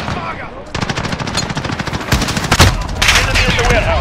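Rapid automatic gunfire from a Call of Duty Modern Warfare team deathmatch, loud dense bursts overlapping with single shots and brief shouted callouts in the mix.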